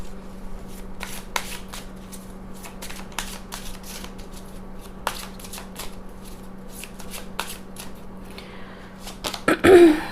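Tarot cards being shuffled by hand, a steady run of soft riffling flicks up close, ending in a louder burst of card handling.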